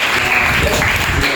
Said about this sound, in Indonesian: terima kasih, tepuk tangan untuk Teddy